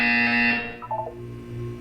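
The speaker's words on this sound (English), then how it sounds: "When you hear the buzzer, look up at the ceiling." A loud electronic buzzer from the video game Portal 2 sounds in a harsh tonal burst, then fades into softer warbling tones and a low hum.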